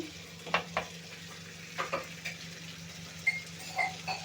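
Ridge gourd fries in a pan with a low, steady sizzle, broken by a handful of spatula scrapes and clinks against the metal as it is stirred, close and quiet with no voices.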